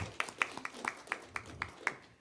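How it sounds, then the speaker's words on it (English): A small group at a school board meeting claps for a student, the separate handclaps fairly distinct and evenly paced, moderately faint, with room sound beneath. "Let's give him a round of applause"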